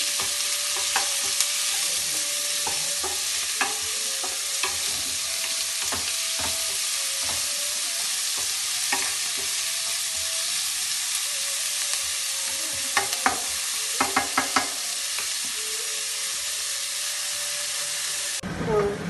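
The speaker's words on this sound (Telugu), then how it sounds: "ఆనియన్స్ బాగా దోరగా వేయించుకున్న తర్వాత" Chopped onions frying in a pan for Nellore-style fish curry, a steady loud sizzle throughout with frequent scraping stir strokes and small clinks from the spatula.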